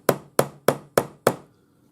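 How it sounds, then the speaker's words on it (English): A rawhide hammer strikes a chasing hammer held on top of a wide domed patterned ring in a dapping block, five sharp, evenly spaced taps close up, each fading quickly, with no talking. "hold my chasing hammer on top and then hit it"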